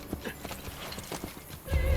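A horse in the Assassin's Creed Brotherhood video game clops along with quick, close hoofbeats, then lets out a loud whinny at the end.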